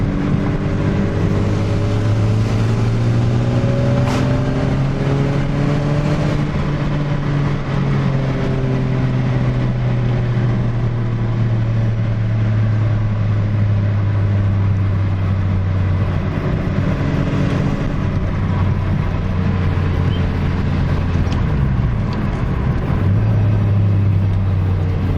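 A VW Corrado G60 engine running steadily during a boost test, a loud continuous drone whose pitch rises and sinks as the revs change, close and unbroken throughout.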